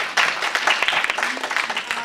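A school audience at a youth risk survey event breaks into brief applause, a short burst of clapping that starts suddenly and continues steadily.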